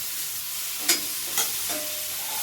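Tomatoes sauté in a pan on a gas stove for a ticking-thumbing green chilli relish, with a constant close sizzle and two or three quick scrapes of the stirring spoon.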